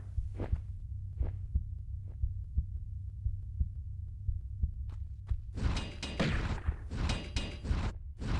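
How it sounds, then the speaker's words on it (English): In the Tomb Raider video game, a heartbeat thumps low and steady, about two beats a second, then is joined and partly buried by a burst of loud, rough noise near the end. "Everything feels like the heartbeat is getting louder as we progress."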